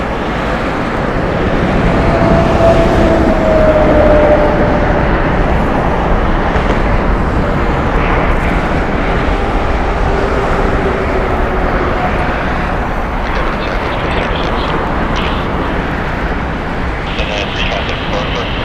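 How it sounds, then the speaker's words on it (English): A Southwest Airlines jet departing Las Vegas Harry Reid International Airport, a broad continuous roar of engine and rushing air heard from a distance that holds steady throughout. "Currently departing is Southwest Airlines 2810"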